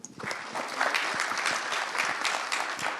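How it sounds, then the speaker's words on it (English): Conference audience gives a round of applause to the panelists at the close of an insurtech and takaful session, steady mid-level clapping that starts abruptly and continues evenly without speech. "If you can just join me for a round of applause on our panelists."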